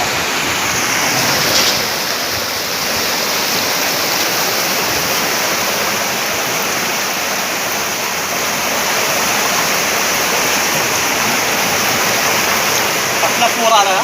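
Floodwater after heavy rain in Pune rushes like a river, a loud, continuous roaring wash of water that stays steady and close throughout, with no pauses.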